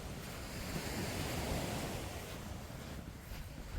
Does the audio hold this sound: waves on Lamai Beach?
yes